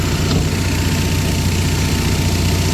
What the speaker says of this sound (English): Right now there's just air just getting pulled in there naturally from the onboard fan of the generator.